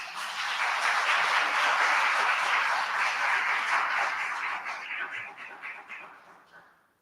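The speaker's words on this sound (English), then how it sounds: "So can we welcome Kuldip with a loud round of applause?" An audience at an interfaith iftar and Eid celebration applauds to welcome a speaker, a dense, full roar of many hands that holds steady for several seconds before thinning into scattered claps and fading away.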